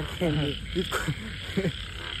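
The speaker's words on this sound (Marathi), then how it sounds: "बघा यो बघा बेडूक बघा" Frogs croak close by, a few short, throaty calls in quick bursts over a constant high insect-like drone.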